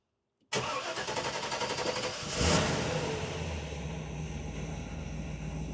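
A 1946 Ford street rod coupe starts up after a silent moment and pulls away, its engine rumbling steadily and swelling briefly as it revs, then settling into a continuous drone close by.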